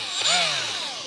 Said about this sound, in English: This is one of the little fuel Milwaukee battery-powered right-angle die grinders.